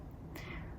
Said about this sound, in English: if you heard my dear wonderful cat, is expressing herself in the background